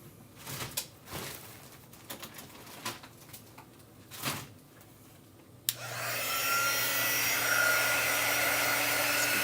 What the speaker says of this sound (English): where's our dryer